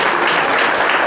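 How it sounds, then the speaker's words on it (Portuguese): A church congregation applauds together in a steady, dense wash of clapping that fills the whole brief moment, close and fairly loud. "Quem entendeu pode aplaudir e glorificar."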